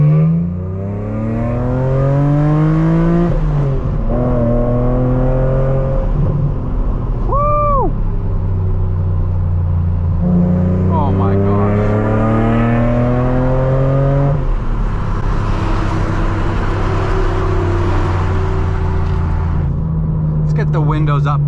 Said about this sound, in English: let me show you what it's like to drive a